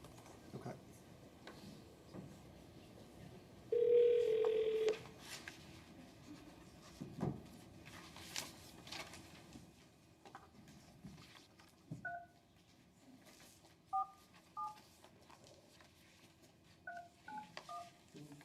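A telephone at a school board meeting gives a tone burst, then a string of short dialing beeps in quick clusters over faint room noise and handling clicks.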